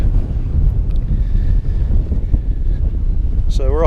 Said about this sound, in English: it's nice weather, a bit windy, wind's about 20 odd mile an hour or so